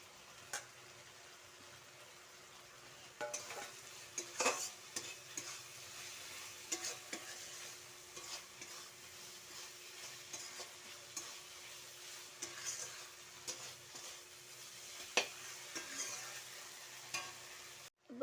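Previously fried fish added to a pan, a quiet continuous sizzle broken by repeated scraping and clinking stirring strokes at an uneven rhythm, close and without talk.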